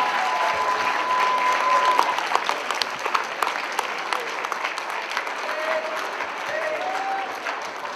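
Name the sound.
applause at a fundraiser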